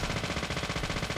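Video game gunfire rattles out as a fast, even stream of bullet shots, a steady rapid pulse that fills the moment, loud and close.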